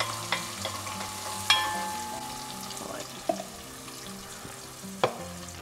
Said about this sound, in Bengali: মশলাটা একটু নেড়ে দিতে হবে যেন একটু ভাজা ভাজা হয় আর কি।